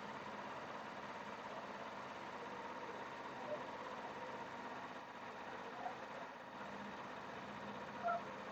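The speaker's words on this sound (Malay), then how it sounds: "Kita panaskan motor bagi enjin sedap sikit kan." Kawasaki Ninja 250 motorcycle engine idling on a cold, foggy night before a ride, a steady, faint low rumble that continues evenly with no revs.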